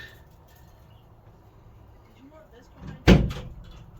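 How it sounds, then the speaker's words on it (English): Doors bang in strong wind outdoors: one loud, close clang lands about three seconds in after a faint rattle, with low wind rumble underneath throughout. "We got it windy outside and the doors are clanging around here."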